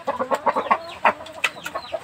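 Aseel chicken, a crossbreed, clucking in a series of short, close calls, some rising into brief squawks, with a steady rhythm of chatter throughout.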